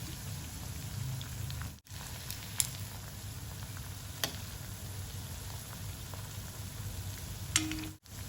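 Cauliflower pieces fry steadily in a pan, giving off a continuous crackling sizzle with a few sharper pops and two brief breaks in the sound; no one talks.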